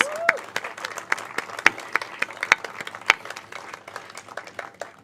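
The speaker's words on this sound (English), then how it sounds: "we should give her a round of applause" An audience at an arts café poetry reading breaks into applause for a poet, a brief burst of scattered, uneven clapping from a modest crowd that thins out after a few seconds.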